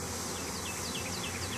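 A honey bee swarm fills the air with a dense, steady, close buzzing hum that never lets up, with no voices.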